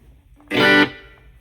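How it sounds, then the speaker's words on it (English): A single short guitar tone through a Wampler Catacombs delay-reverb pedal set to a short reverb with feedback and delay, a bright distorted burst that cuts off quickly and leaves a faint repeating tail fading away. "If you want more, we can turn on the feedback and the delay"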